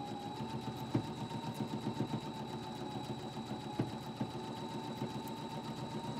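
Sewing machine running a straight stitch on a quilted pillow, a faint, steady mechanical whir with fine rapid ticking and a few soft clicks, with no talk.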